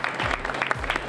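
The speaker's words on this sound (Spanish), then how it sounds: "Hoy no es un día cualquiera y estos aplausos tampoco lo son como otros" Applause at a solemn public tribute for women, brief steady clapping with some voices mixed in, moderately loud.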